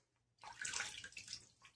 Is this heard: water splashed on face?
yes